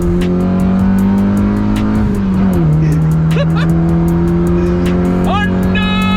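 A Honda Civic engine running with no airbox, a loud steady drone that shifts pitch midway as the revs drop and settle, with faint voices and squeaky higher tones over the top.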